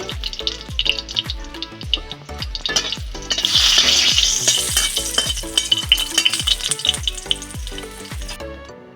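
Whole spices, bay leaf and dried red chillies sizzle in hot oil, close and steady, with repeated rhythmic scrapes of a spatula stirring the pan and a fuller hiss swelling midway.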